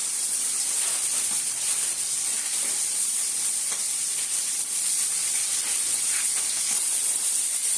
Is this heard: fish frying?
yes